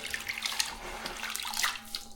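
Warm water runs and splashes steadily as a grout sponge is soaked, a soft continuous trickle close by with no voices.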